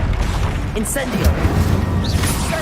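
The Incendio fire spell cast in Hogwarts Legacy, a steady roar of fiery magic with booming impacts, scattered pops and small rising whistles, loud and continuous, with a voice in the mix.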